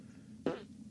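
A single short, low fart sounds abruptly, close and brief, rising out of quiet room tone on a talk radio show.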